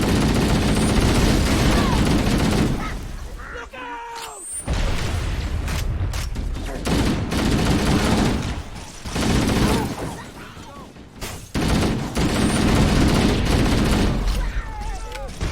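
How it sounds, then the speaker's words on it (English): Gunfire in a Halo: Combat Evolved battle, with dense bursts of automatic weapons fire, booms and mechanical clatter, loud and close, broken by short pauses, with voices speaking in places. "Chief runs up to a rock and fires horizontally at an enemy firing"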